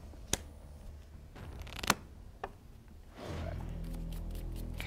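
A deck of trading cards is shuffled up close, with a few sharp card snaps and riffles, then a steadier soft shuffling rustle near the end, quiet and without speech.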